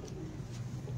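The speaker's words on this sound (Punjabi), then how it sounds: "ਅੱਛਾ ਕਬੂਤਰ ਹੈ ਇਹ ਡੈਡੀ ਕਬੂਤਰ ਵੀ ਬਹੁਤ ਵਧੀਆ" A pigeon coos softly in a low, steady murmur at a bird market, a close, continuous throaty burble with no talk over it.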